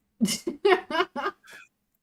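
A single short, sharp sneeze bursts out close by, followed by a few breathy trailing sounds indoors at a board game night.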